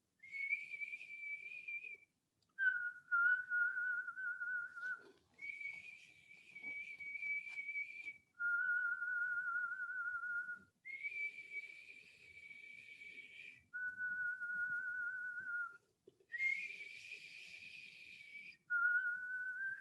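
Steady whistling breath during a Kundalini yoga breathing exercise, long tones alternating between a higher and lower pitch with short pauses, soft and close in a quiet room.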